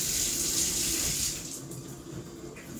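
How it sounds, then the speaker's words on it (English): Shower water runs steadily while hair is rinsed, a broad hiss that is louder at first and then settles into a softer, continuous spray, with no talking. "I'm gonna go ahead and get in the shower and just rinse it"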